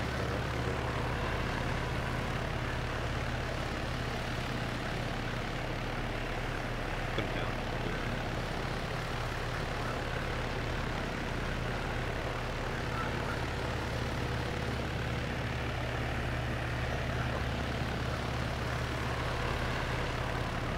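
A helicopter in a video game, its engine and rotor drone running steady and loud throughout, with faint voices talking over it.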